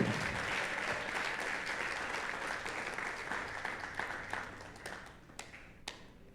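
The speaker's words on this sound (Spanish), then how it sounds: "Aplaude al Señor." A church congregation at a Sunday service applauds, dense sustained clapping from many hands that thins out toward the end into a few scattered claps.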